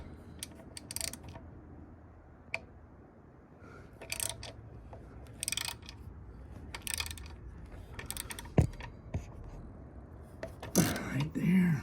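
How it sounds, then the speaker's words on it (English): Ratchet fitted with an 8mm socket clicks in short bursts while loosening a plate on a 2021 Kawasaki KLX 300R motorcycle, nearby and fairly quiet, with faint handling clatter between runs. "Okay, here I got an 8mm socket."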